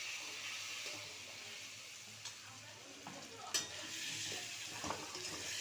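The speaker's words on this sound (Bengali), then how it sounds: "মশলাটা একটু ঢাকা দিয়ে ভাজি" Spice masala with tomato fries in a partly covered pan, producing a faint, even sizzling hiss with a few soft ticks and pops, heard alone without talk.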